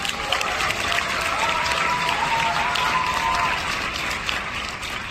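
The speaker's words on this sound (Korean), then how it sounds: "여러분들의 열망에 박수를 보내드리고 싶습니다." An audience at a leadership speech event claps steadily, a thick even wash of applause that carries on throughout, close and fairly loud with no talking over it.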